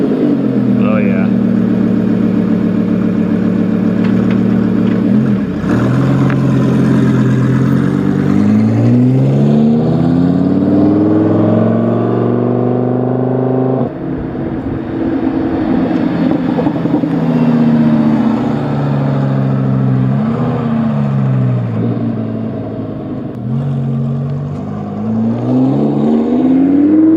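A Lamborghini engine revs and pulls through gears during a ride, rising and falling in pitch repeatedly over a long stretch, loud and close from inside the car, with voices talking over it.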